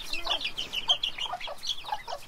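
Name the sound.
frizzle chicken clucking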